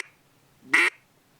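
A single loud, nasal quack from a duck call, short and close, with quiet before and after.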